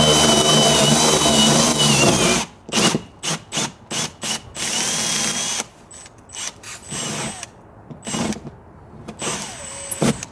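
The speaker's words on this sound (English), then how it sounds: "So I'm going to drill the whole thing large enough for a connector." A power drill bores a hole through the wall of a generator building to fit a connector, running in repeated short bursts with brief pauses between them, loud and close, with no talk.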